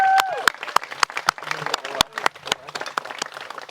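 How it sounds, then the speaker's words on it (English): Wedding guests applaud during the reception speeches, scattered, sharp individual claps and a loose patter of hands close by, with a cheer and voices underneath. "let's give a big round of applause"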